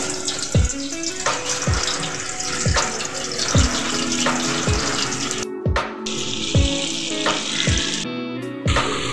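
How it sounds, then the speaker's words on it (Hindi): Chicken pieces crackle and sizzle in plenty of hot oil in a kadai, a loud, continuous spitting fry broken by a series of sharp, regular clanks from a utensil against the pan, with no voices. "अब इसमें हम थोड़ा तेल ज़्यादा डालेंगे, चिकन फ्राई करना है।"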